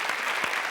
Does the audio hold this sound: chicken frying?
no